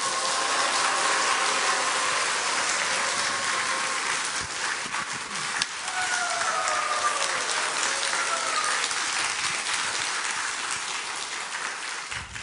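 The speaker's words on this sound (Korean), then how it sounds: "뜨거운 박수와 함성과 동동거림으로 김철웅 교수님 모시겠습니다." A church evangelism festival crowd welcomes pianist Kim Cheol-woong with a steady wash of warm applause, cheering and foot stamping, broad and continuous, with faint voices woven through the din.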